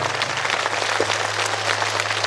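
Audience clapping at a Silver and Golden Jubilee celebration for St. Anne's Sisters, a steady, dense wash of applause lasting about two seconds with a constant low hum beneath it.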